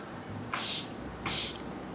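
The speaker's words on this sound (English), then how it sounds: "I'm just going to take my Tilbury spray." Charlotte Tilbury setting spray is misted onto a face during makeup application: two short, bright hissing spritzes about a second apart, close and clear against a quiet room.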